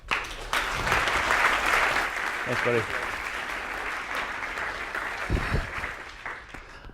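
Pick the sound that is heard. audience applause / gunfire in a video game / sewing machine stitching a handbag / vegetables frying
audience applause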